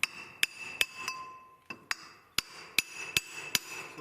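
A hammer strikes a metal pipe about ten times in sharp, ringing clanks at an uneven pace, close and alone, with a bright metallic ring hanging after several hits.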